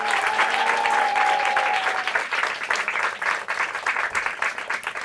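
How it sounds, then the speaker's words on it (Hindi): Loud, full applause from an audience for a quiz team, with a whistle-like tone over the first couple of seconds before the clapping settles into an uneven, sustained roar. "उनके लिए जोरदार तालियां हो जाए"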